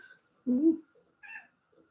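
A house cat gives a short meow, followed a moment later by a softer second mew, close and fairly quiet in an otherwise still room.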